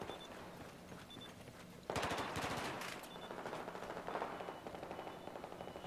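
Battlefield 4 match gunfire: a sudden loud burst of rapid automatic fire crackles in, then further bursts and scattered shots follow at a lower level over a faint background.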